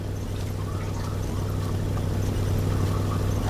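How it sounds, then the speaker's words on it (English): A loud car engine in a video game, a steady low rumbling drone that holds constant throughout with no breaks. "Our car is very loud."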